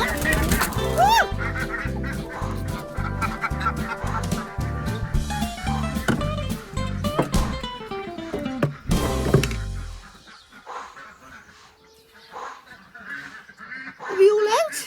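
Geese, goslings and ducks in a backyard enclosure honk and quack loudly and repeatedly for about ten seconds, a dense overlapping chorus close by, then fading to near quiet with a few sparse calls and a brief voice.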